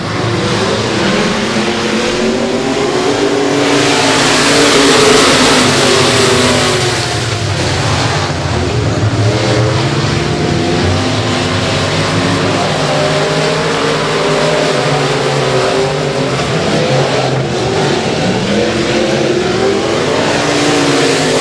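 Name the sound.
race cars racing at Boothill Speedway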